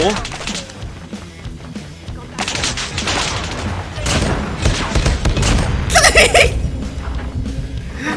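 Rapid bursts of M13 rifle fire with the Liminal Flare skin in Call of Duty Mobile, loud and continuous with booming impacts and a crackling electric burst, while someone talks excitedly over the gunfire.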